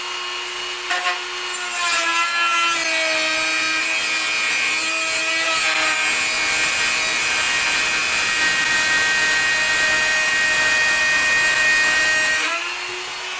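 An angle grinder's wheel cuts and grinds small tabs off a metal ammo box, a steady loud whirring whine with shifting tones running about eleven seconds before stopping abruptly.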